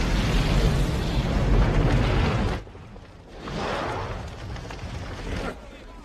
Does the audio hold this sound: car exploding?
yes